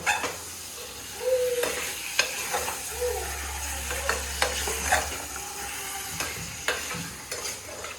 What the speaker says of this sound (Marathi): मस्त चिकन बॉईल टाकले